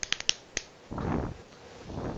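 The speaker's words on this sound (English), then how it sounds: "Did you just double clap?" Two quick sharp hand claps, close and muffled like finger snaps, a few lighter taps around them, followed by a soft rustling swell and low murmuring.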